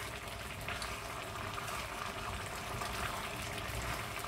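A chickpea and potato curry cooking on full heat is stirred in its pot, giving a close, steady bubbling, wet sloshing texture that stays continuous and fairly quiet.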